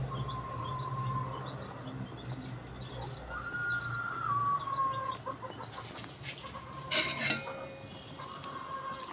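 A pot of boiling water with seasoning granules gets stirred, with a loud metallic clank of a utensil against the pot partway through, while a rooster crows and clucks in the background.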